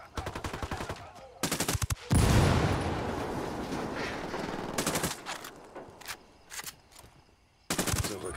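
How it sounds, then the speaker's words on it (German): Rapid automatic gunfire and a heavy grenade blast in Ghost Recon Wildlands: short rattling bursts, then a loud boom with a long rumbling decay, followed by more scattered volleys. "Granate fliegt."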